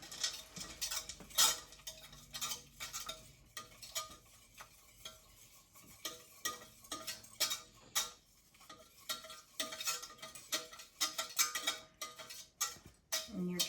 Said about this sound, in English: And we're going to whisk that